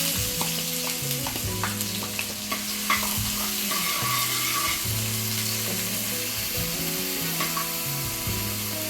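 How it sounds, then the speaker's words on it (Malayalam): Onions frying in a pan with popped mustard seeds for upma, a strong steady sizzle with repeated stirring scrapes and occasional sharp pops throughout. "കടുക് പൊട്ടി ഉള്ളി ചേർക്കുന്നു."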